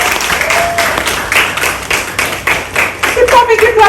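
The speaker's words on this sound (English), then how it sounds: "A round of applause." Audience at an indoor brand expo and networking event in Toronto applauds to welcome a speaker, dense close clapping with a few cheers and a voice speaking over it.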